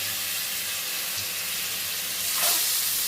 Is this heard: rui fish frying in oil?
yes